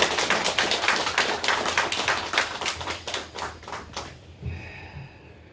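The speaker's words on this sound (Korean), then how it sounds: "우리 찬양대 위해서 한번 박수 한번 쳐주시죠." A church congregation applauds its choir with brisk, dense clapping from many hands in a hall. The applause is steady at first, then thins and fades out after about four seconds.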